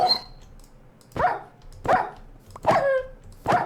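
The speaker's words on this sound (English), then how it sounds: "Hey, what's up, wild dog? How's it going?" A wild dog in the Minecraft SevTech Ages video game barks five times in a close, loud, evenly spaced series of sharp yaps, with quiet pauses between them.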